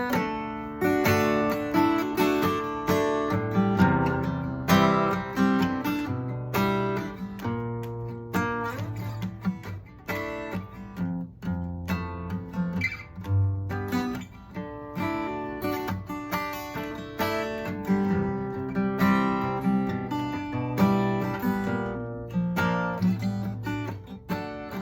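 An acoustic guitar plays the first verse of a song alone, with steady picked chords ringing clearly and fairly close throughout.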